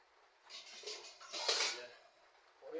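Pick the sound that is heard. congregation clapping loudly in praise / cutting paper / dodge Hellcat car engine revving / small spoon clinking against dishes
small spoon clinking against dishes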